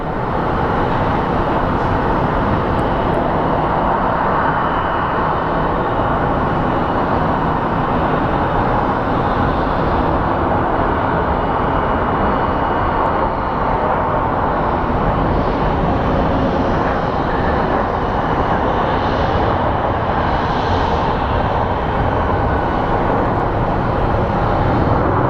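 An airliner landing at Phoenix Sky Harbor International Airport produces a loud, continuous engine roar and rumble that holds steady throughout, close and dominant with no other sounds standing out.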